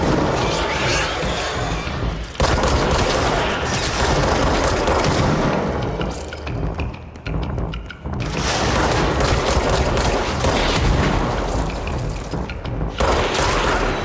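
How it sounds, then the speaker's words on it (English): Dense, sustained barrage of rocket fire and blasts in the action game Control, loud and continuous with brief lulls, no talking. "Who's shooting rockets?"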